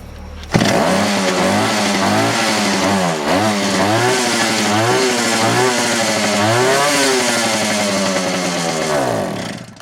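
A Ural motorcycle with Elektron ignition, started after sitting idle for a long time, fires up loudly and close. It runs steadily, with repeated rising and falling revs, for about nine seconds.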